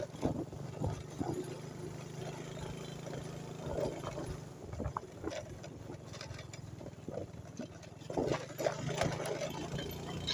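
A Yamaha Jupiter farm-use motorbike engine runs steadily on a rough, rain-eroded rural road toward a village, a continuous mechanical drone with occasional rattles and bumps.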